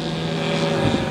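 A radio-controlled model airplane makes a low pass at an RC airshow. Its propeller and engine produce a steady, loud drone that swells slightly toward the end.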